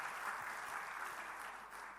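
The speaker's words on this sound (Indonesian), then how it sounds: "Beri tepuk tangan bagi Allah" Steady, faint applause from a church congregation giving praise to God, a dense even wash of many hands clapping, heard at a distance and with no voices over it.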